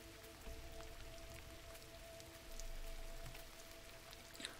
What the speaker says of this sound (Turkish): Yağmur oraya gitmeye başladı.